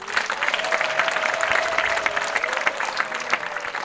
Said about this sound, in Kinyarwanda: Nkomerera Imana amashyi.